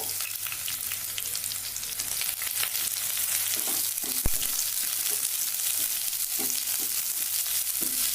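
Chopped onion fries in a pan with a loud, dense sizzle that persists throughout. Scattered stirring taps and one sharp knock come through midway, with no talking.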